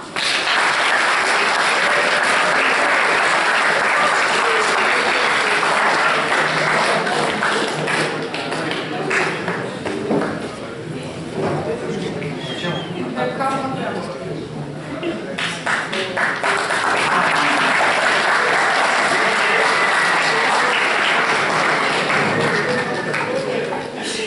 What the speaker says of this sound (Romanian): Așa că haideți să-i aplaudăm!